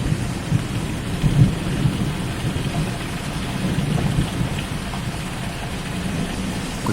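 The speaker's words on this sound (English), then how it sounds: "Could hear this very loud thunder." Loud, continuous rumbling thunder during a hailstorm in Florida, with heavy rain drumming steadily throughout, no voices.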